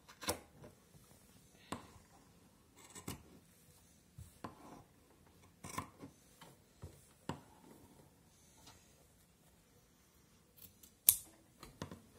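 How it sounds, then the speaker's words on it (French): Scissors snip the corners of a fabric pincushion notebook in short, separate cuts at irregular intervals, close and fairly quiet, with no talking. "je vais couper mes angles pour éviter l'épaisseur"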